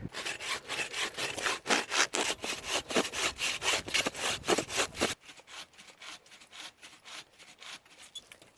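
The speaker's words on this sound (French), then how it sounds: "Je vais finir à la scie parce que j'en peux plus" A hand saw cuts wood in steady back-and-forth strokes, loud and close, for about five seconds before stopping, leaving faint quiet background.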